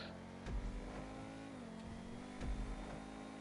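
Engine of a car in a PS4 racing game revving up toward top speed, a continuous buzzing drone with a gradual pitch rise and two short louder bursts, heard up close with no voices.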